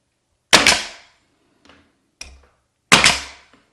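A brad nailer fires long brads through door casing and drywall into studs, giving two sharp, loud pops with a quieter clack and a softer knock between them.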